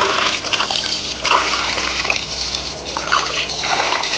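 Ingredients being rinsed in water, with close sloshing and splashing in bursts over a running-water background.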